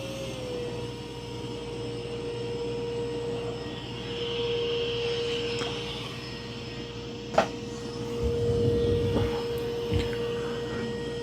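A Mova V50 robot vacuum runs on turbo mode across carpet, giving a close, steady whirring drone with a constant tone, a brief knock midway and a slightly rougher stretch toward the end.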